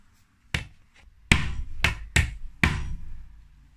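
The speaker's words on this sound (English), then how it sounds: "So on one of the panels, you have to hammer in this." Hammer blows driving a fitting into an IKEA PAX wardrobe panel: a single sharp knock, then four hard strikes in quick succession, close and loud with brief ringing decay, no talking.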